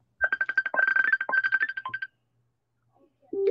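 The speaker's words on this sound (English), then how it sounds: "She can't find her phone. It's ringing off the hook." A mobile phone rings with a rapid, repeated electronic melody for about two seconds, fairly close and clear, then stops; a brief voice is heard at the end.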